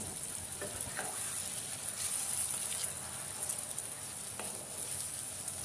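Chicken masala sizzles hard in a pan as whisked yogurt and fried spices go in, a steady, dense crackling hiss with a few sharper spits and stirring scrapes, close and continuous.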